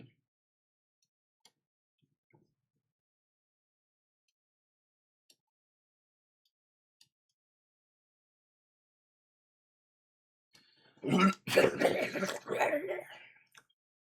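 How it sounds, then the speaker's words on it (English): After a long near-silent stretch with faint ticks, a single burst of coughing breaks out close by, rough and brief. "Sorry guys, I just coughed."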